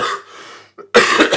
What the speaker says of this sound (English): My cough today is an absolute bitch.